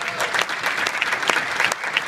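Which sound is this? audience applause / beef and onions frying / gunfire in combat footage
audience applause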